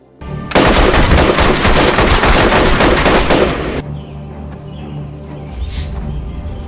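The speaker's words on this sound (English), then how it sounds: "the men shoot them without any mercy" Dense, loud machine-gun fire from men shooting in a jungle camp in an action film bursts for about three seconds, then cuts to quieter jungle ambience with insects and birds.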